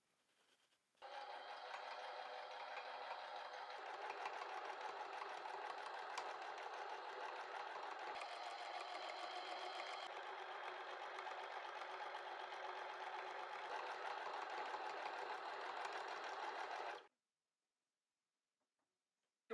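A sewing machine stitching anorak jacket side panels, starting after a moment of quiet and running steadily and closely at an even, rattling hum for about sixteen seconds before stopping abruptly.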